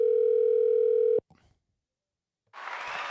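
A phone call's outgoing tone sounds as one long steady beep up close, cuts off, goes silent for a moment, then gives way to a burst of noise as the line connects.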